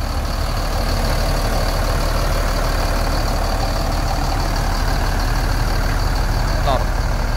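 A tronton bus engine idles with a steady, heavy low rumble and constant drone up close, with faint talk in the background.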